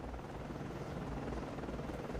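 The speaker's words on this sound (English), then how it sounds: "let's drop with our second helicopter" A helicopter in the naval combat game Cold Waters, heard as a steady low rotor drone with airy wash, continuous and moderately loud throughout.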